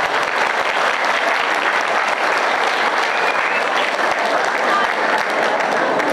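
Crowd applause at an outdoor religious gathering in Rimba Melintang, Rokan Hilir: a thick, continuous wash of many hands clapping, loud and even throughout with no pauses.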